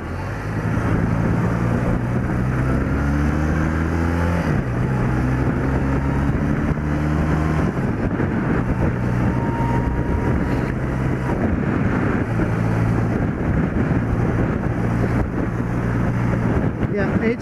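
Steady roaring wind buffets the microphone while riding an old motorcycle, a constant loud rush with the engine's low drone running beneath it throughout.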